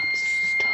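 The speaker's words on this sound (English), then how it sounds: "fridge has an alarm that goes off whenever the fridge is open too long, and it just went off" Fridge door-open alarm beeping, a single steady high electronic tone held through a brief moment, close by with faint rustling around it.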